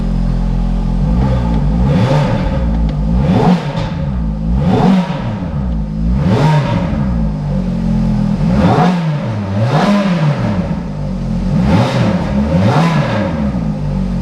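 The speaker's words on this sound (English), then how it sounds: "I think it's one of the best sounding Ferraris. I really do. I just think it sounds great. Let's just give it a quick blip." A Ferrari engine is blipped repeatedly, about eight loud, close revs that rise and fall in a steady rhythm over a continuous idle rumble.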